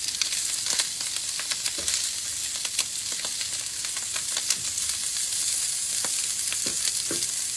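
Food sizzling in a hot pan as it is stirred, a steady close frying hiss with scattered scrapes and pops from the utensil throughout, with no talking.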